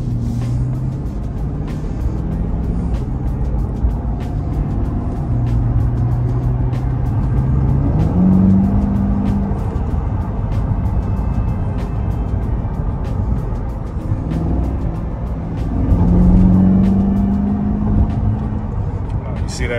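A 2021 Chevrolet Corvette C8 being driven and accelerating, its engine a steady loud rumble with rising tones as speed builds, heard from inside the cabin, with a person talking over parts of it.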